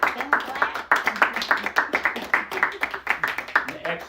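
Audience clapping at a bookstore reading, a small group giving quick, uneven claps in close bursts, with voices talking over them.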